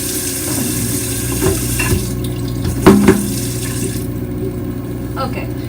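Tap water running steadily over lemon squeezer parts during a rinse, a constant close hiss with a couple of brief clatters of the parts in the sink.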